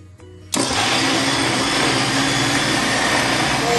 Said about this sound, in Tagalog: i-blender po natin.